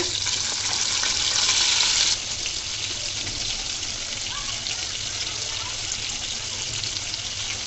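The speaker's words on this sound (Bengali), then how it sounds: "মাছগুলো ভালো করে ভেজে নিব" Hilsa fish fry in a pan with a steady, loud sizzle that runs throughout, briefly hissing harder at the start before settling into a constant crackle.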